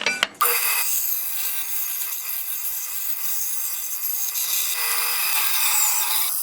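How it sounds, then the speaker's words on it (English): Thin sheet metal is cut while held on a riser block, giving a continuous close rasping, sawing scrape after a brief knock at the start, with no talking. "A riser block for cutting sheet metal or thin material."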